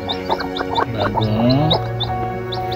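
Mother hens clucking low and steady close by while newly hatched chicks peep in quick, high chirps, with a voice speaking briefly underneath.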